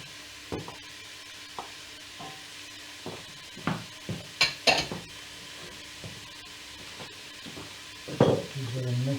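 Garlic sizzling and being stirred in a soup pot, with scattered scraping and clinking of a utensil against the pan, a brief louder burst of frying near the end, no talk.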